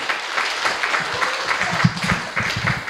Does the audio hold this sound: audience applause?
yes